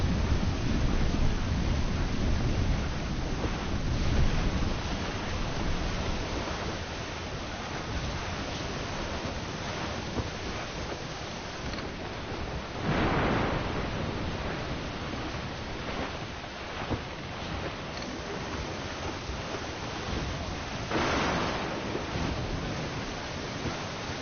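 Storm wind and rolling waves at sea aboard a sailing ship in Assassin's Creed Black Flag, a constant roaring wash with occasional louder gusts and surges, no voices.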